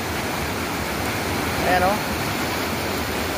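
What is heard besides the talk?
river water flowing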